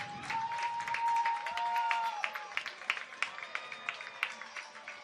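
Crowd at a high school football sectional game applauding as Terre Haute North takes the field, a broad steady wash of clapping and cheering with a few sustained whistle-like tones early on.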